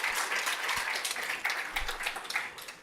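Brief audience applause at a university postdoc slam event, a dense patter of clapping hands lasting about three seconds, moderately loud and fading slightly toward the end.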